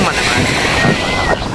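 Rough sea waves churn with strong gusting wind buffeting the microphone, a loud continuous wash of surf and wind noise close by, with a voice faintly mixed in.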